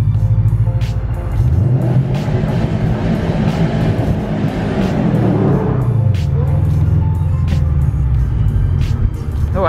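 A Nissan 370Z with a newly installed aftermarket exhaust accelerates hard from inside the car, its loud engine climbing through revs with a gear change partway through.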